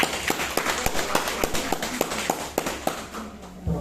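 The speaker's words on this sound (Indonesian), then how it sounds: "Tepuk tangan para perempuan." Women in an audience clapping, sharp individual claps in a loose rhythm, close and distinct, with a busier patter of hands between them, lasting a few seconds without speech.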